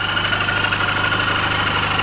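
A repaired car engine idles steadily and close up, a loud continuous mid-pitched drone with a faint rhythmic knock running through it and no talk.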